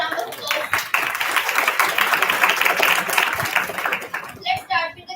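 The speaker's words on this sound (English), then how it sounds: "Please give a round of applause." Round of applause for the nearly 54 female engineers and scientists of the Chandrayaan 3 mission at a Gender Equality Day event, dense crowd clapping sustained for about four seconds, then thinning into scattered claps and a few voices.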